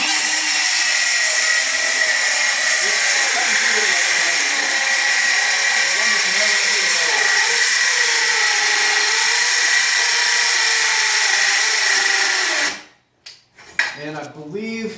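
A Milwaukee M12 FUEL 5-3/8 inch cordless circular saw rips through clamped stock in one long, loud, steady whine close up, cutting off abruptly near the end, followed by brief clatter.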